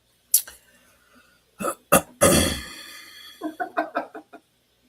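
A woman gives a few rough throat-clearing bursts, close and fairly loud, followed by a short run of quick clipped vocal sounds.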